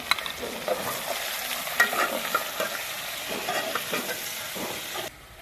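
Steady sizzling of ginger garlic paste frying in a pan, with scraping and stirring clicks throughout, ending abruptly; no talking.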